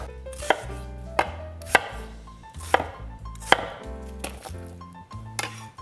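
Carrots, onions and garlic being rough-chopped with a knife on a board, giving a string of sharp, irregular thunks that stand alone and close up.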